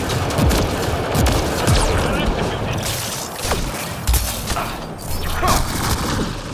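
Heavy gunfire from back-mounted cannons in the sci-fi shooter game Mass Effect: Andromeda, a continuous dense barrage of booms and crashes running the whole stretch, with someone talking over the combat.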